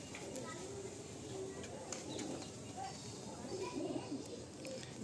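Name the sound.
pigeon cooing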